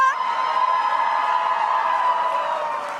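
Election night rally crowd cheering and whooping in a loud, sustained roar that fills the room, with shouts layered over a steady wash of noise and no clear speech on top.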